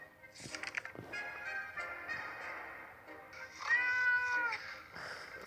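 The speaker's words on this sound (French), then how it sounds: "Ouais, le chat est revenu." A cat meows repeatedly in the survival video game 60 Seconds, several drawn-out cries in a row, over a quiet game-music background with no talking.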